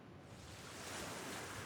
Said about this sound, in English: you can hear the sound of the waves